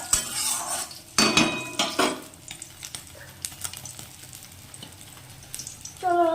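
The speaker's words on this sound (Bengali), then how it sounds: "কাতলা মাছের ঝোল না, কাতলা মাছ ভাজা করছি।" Pieces of catla fish fry in a pan, with crackling oil, a steady sizzle and intermittent clinks and scrapes of a utensil against the pan, close and clear with no talking.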